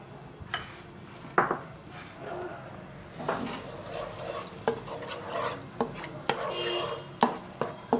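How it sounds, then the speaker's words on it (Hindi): Garlic and ginger sizzle in hot oil while a utensil stirs them, with scraping and clinking against a pan in irregular strokes, close and moderately loud, no talking. "थर्टी सेकेंड जो है आपने अपने लहसुन अदरक को ऑयल के साथ फ्राई कर लेना है।"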